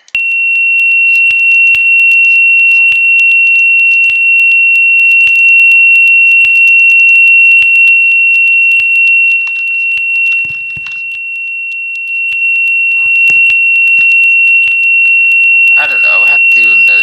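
A fire alarm in a Roblox elementary school sounds as one steady, loud, unbroken tone throughout, with a burst of other noise near the end.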